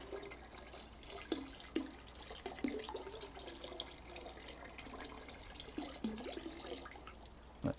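Yeast mixture poured and mixed into barley water for a homemade whisky mash, giving continuous close splashing and trickling liquid sounds with a few sharper sloshes.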